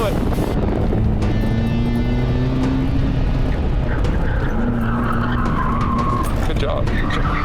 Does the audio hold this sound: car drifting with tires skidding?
yes